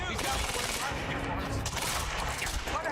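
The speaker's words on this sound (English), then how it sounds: "You heard the gunfire." Dense bursts of rapid gunfire in the video game Quantum Break crackle loudly and continuously, layered shots overlapping with a voice faintly mixed in.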